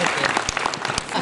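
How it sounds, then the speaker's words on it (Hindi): Audience applause at an innovation and start-up summit award ceremony at a government medical college, dense steady clapping from a crowd throughout the short stretch, fairly loud and even. "लेकिन तालियां बजाते रहिए"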